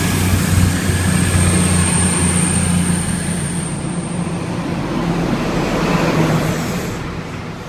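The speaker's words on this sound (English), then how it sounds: "train bound for London" East Midlands Railway train pulling into a Parkway station platform, a steady low engine rumble with broad rolling noise throughout, a faint high whine near the middle, easing slightly toward the end.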